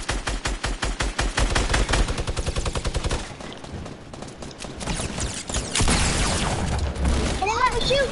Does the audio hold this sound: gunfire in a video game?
yes